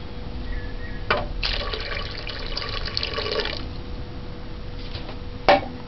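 Five cups of water splash and pour into a cooking pot for Jamaican rice and peas, a steady close wash of liquid with a few sharper bursts. No voices are heard.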